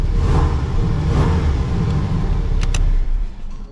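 A Porsche 718 Cayman T engine running close by, a deep steady rumble with slight swells that eases off near the end, with no talking.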